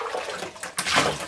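Water pours from a toy scoop in a bath, a short close splash and trickle that swells into a brief gush.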